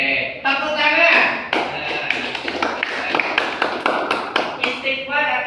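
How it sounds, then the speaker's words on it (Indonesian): A primary school class claps together during an Islamic moral studies lesson, a burst of many hands forming sharp, fairly regular claps close by, with children's voices mixed in at the start and end. "Oke, tepuk tangan."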